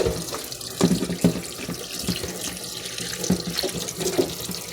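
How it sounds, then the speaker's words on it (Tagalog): Tap water runs into a sink while a helmet soaks for washing, a steady close splashing with irregular louder sloshes and drips as the water is moved around, no voices. "Babad lang po natin sa tubig ng maayos."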